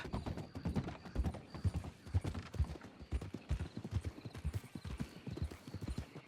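Horse hooves clip-clop in a steady trotting rhythm in the Red Dead RP video game, close and fairly quiet, continuing throughout.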